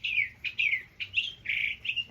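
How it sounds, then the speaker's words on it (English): Bird singing outdoors in a rapid series of bright, high chirps and warbled phrases, close and clear, with no talk over it. "Got a really talkative bird here"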